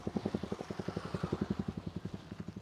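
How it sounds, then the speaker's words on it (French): Motorcycle engine passing on a road near a bridge, a steady rapid pulsing throb, fairly close and loud, alone with no talk. "Ah, le doux bruit d'une moto."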